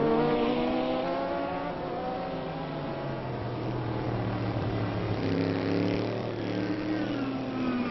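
Race cars including a Corvette and an LMP prototype passing at Road America during an ALMS race, engines droning and shifting pitch at a distance in a continuous steady roar.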